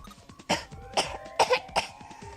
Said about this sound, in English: she's coughing so hard she can't even talk